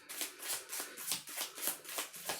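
Tarot cards are shuffled by hand in a steady rhythmic series of soft papery swishes, about eight strokes with no talking.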